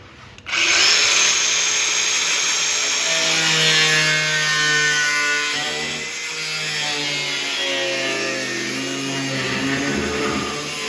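A power tool cuts sheet metal during body repair on an Oldsmobile Vista Cruiser station wagon, starting abruptly with a loud, sustained whining, rasping cut close by that shifts pitch as the load changes and runs continuously without talk.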